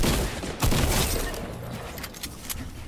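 Gunfire in the Fortnite video game, a dense burst of crackling shots up front that thins into scattered distant pops and rattles, steady and busy throughout with no talking.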